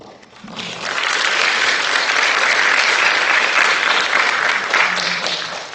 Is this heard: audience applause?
yes